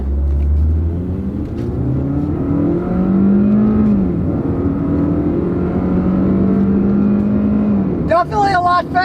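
An economy car with an automatic gearbox in manual mode pulls away hard in first gear, its engine droning loudly and rising in pitch up close, with a brief change in tone near the end.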